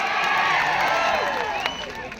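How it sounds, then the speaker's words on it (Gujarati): A crowd gathered at a political rally meeting applauds a speaker, a dense continuous wash of clapping with some cheering, steady and loud for the whole short stretch. "એમને બી તાળીઓથી વધાવીએ"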